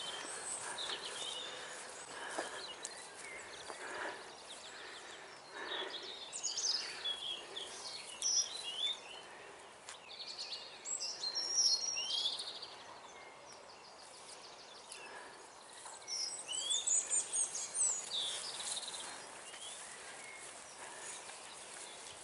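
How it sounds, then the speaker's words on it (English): Birds chirp and sing in scattered bursts outdoors, fairly faint and distant, over quiet ambient background. "Listen to the birds, folks."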